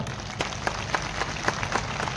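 Devotees at a Buddhist rally for the Mahabodhi Mahavihara liberation movement break into steady applause, a dense wash of many hands clapping with regular louder swells, heard alone without speech.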